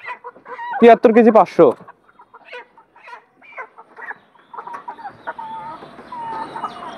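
Broiler chickens cluck and squawk in a loud, dense burst at the start, then softer scattered clucks continue from a nearby flock while someone speaks briefly.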